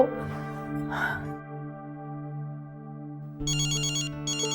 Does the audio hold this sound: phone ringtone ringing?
yes